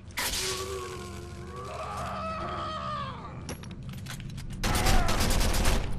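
Gunfire in Condemned: Criminal Origins on Xbox 360, in a cannibal-infested school: a strained, wavering cry gives way to a sharp crack and then a loud, rapid string of close shots near the end.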